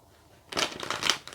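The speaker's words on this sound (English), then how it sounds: "So let me just give that another shuffle first." A deck of tarot and oracle cards is shuffled close up: a brief, crisp flurry of riffling after a quiet moment, with no talking.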